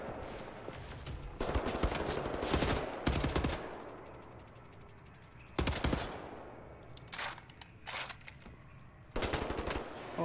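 Bursts of automatic gunfire in Wolfenstein: The New Order, several rapid rattling volleys separated by short pauses, fairly close and steady in loudness.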